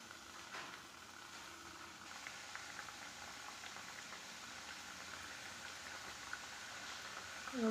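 Wheat flour snacks deep fry in moderately hot oil, giving a soft, even bubbling patter with scattered small pops, steady and fairly quiet throughout.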